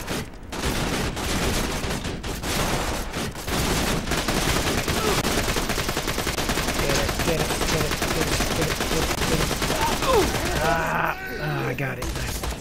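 Sentry turret firing in the shooter game Borderlands 2, dense continuous rapid gunfire rattling without pause, with a brief lull near the end where fragments of music or voices come through.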